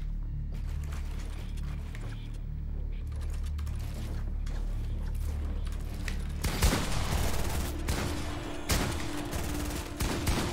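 Pump shotgun fire and reload clatter in Fortnite, a dense burst of mechanical clacks and racking sounds that intensifies in the second half amid steady game noise.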